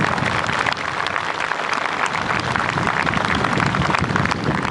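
Loud, sustained applause and cheering from a large outdoor crowd at a Navy Day display of marine commandos, a dense unbroken roar of clapping lasting throughout.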